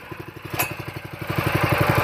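A gas-engine pressure washer running just after its pull start, a close, loud, rhythmic engine chug that grows slightly stronger, with a brief sharp click near the start.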